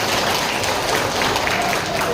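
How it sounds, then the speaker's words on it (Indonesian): A brief, loud burst of crowd clapping at a Gerindra party gathering in Indonesia, dense and continuous across its short span. "Tepuk tangan buat kita semuanya."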